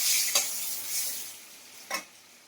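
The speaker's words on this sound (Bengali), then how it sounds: "তেলটা এখানে আমার ভাজা হচ্ছে, তেলটা ভালো করে না ভাজলে হবে না" Dried red chillies frying in hot oil in a pan, a steady soft sizzle with two brief stirring scrapes, close and alone without talk.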